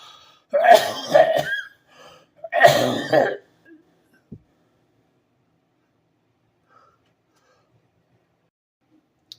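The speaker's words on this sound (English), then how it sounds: "Apologies for the coughing spell." Two harsh bursts of coughing in quick succession, loud and close, each a cluster of rough hacks, followed by a faint click and near silence.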